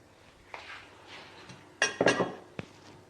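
Extra onions are stirred into a gluten-free vegan French onion dip in a bowl. A spoon scrapes and clinks against the bowl in irregular bursts, with a cluster of louder knocks in the middle.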